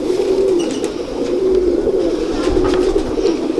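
A large pigeon coos in repeated low, rolling phrases, close and clear over a soft background hum, with no talking.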